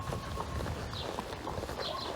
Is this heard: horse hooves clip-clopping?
yes